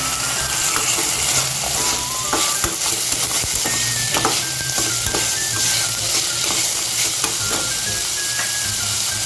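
Chopped carrot goes into softened onions in a wok for vegetable masala Maggi noodles, giving a loud, steady sizzle broken by repeated spatula scrapes and taps against the metal, with no talking.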